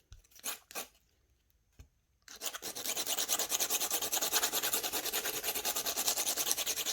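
Sanding the sharp edge of a rainbow flower resin bowl, a steady close rasping scrape that runs continuously after a few brief scuffs and a pause.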